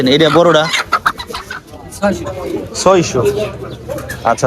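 Native chickens at a poultry market in Faridpur cluck and squawk in short bursts, mixed with nearby bird calls, largely under loud conversation between buyers and sellers.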